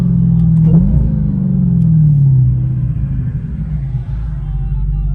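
A 2020 Dodge Charger Hellcat Widebody idles with a deep, loud, steady engine rumble, its pitch briefly swelling and sliding back down during the first few seconds before settling into a continuous low drone.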